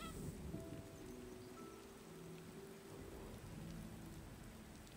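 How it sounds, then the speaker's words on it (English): Rain falls in the video game Disney Dreamlight Valley, a soft continuous patter on surfaces with faint scattered tones over a low, quiet wash. "And it's raining again."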